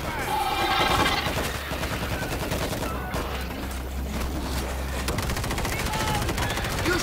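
Automatic gunfire rattles in fast, dense bursts in the zombie shooter World War Z, with a low rumble under the shots and voices calling out between them.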